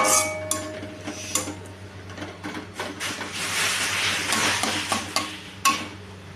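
Egg chow mein with soy and tomato sauce being stirred in a pan: a steady scraping and clattering of a utensil against metal, with scattered sharper knocks over a faint sizzle, close and moderately loud, with no talking.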